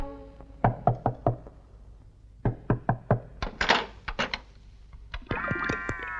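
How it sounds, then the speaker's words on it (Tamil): Knuckles rap on a door in several quick bursts of three or four knocks each, close and loud, with a short tonal electronic sound rising at the end. "எவ்வளவு நேரம் தட்டிக்கிட்டு இருக்கேன், கதவு திறக்கவே மாட்டேங்குது."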